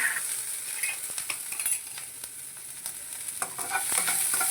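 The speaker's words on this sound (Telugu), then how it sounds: "వెల్లుల్లిపాయ ముక్కలు, అల్లం ముక్కలు కట్ చేసుకొని వేస్తున్నాను. అలాగే ఒక 4 పచ్చిమిర్చి వేస్తున్నాను" Chopped garlic, ginger and four green chillies fry in oil in a pan, giving a continuous bright sizzle with light stirring scrapes throughout, close and steady.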